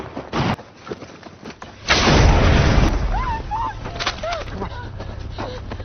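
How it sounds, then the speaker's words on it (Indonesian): A bomb goes off in a film, a loud sudden blast followed by a rumbling tail, with birds chirping after it and earlier sharp bangs. "menyelamatkan Charles dan istrinya dengan mengalihkan perhatian Ishak menggunakan sebuah bom"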